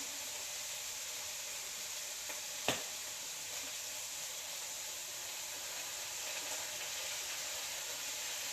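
Mixed vegetables frying in a pan for low-carb cauliflower fried rice, giving a steady, even sizzle and hiss throughout, with one sharp clink of a utensil partway through and no talking.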